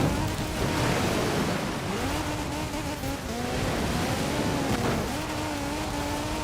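Race cars roar past in Forza Horizon 4, engine notes rising and falling in overlapping sweeps over a constant rushing hiss of tyres and wind, loud and unbroken.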